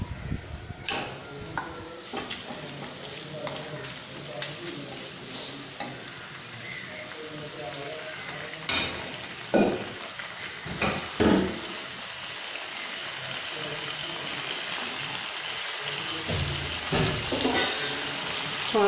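Chicken fries in hot sunflower oil with a steady, close sizzle, punctuated by clattering stirs and spoon scrapes that grow busier toward the end.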